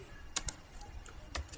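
A command is typed on a computer keyboard as a few soft, quick key taps in two small bursts, close by and quiet against faint background noise.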